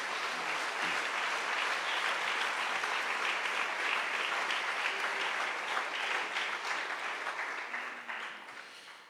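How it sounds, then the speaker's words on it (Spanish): Church congregation applauds, a dense sustained wash of clapping from many hands that holds steady for several seconds and fades toward the end. "Dale un fuerte aplauso al Señor."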